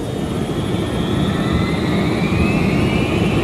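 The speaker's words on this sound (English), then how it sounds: "On takeoff, the 757 performed perfectly." A Boeing 757 jet roars loud and steady through its takeoff run, with deep rumbling power and a whining engine tone that climbs slowly in pitch.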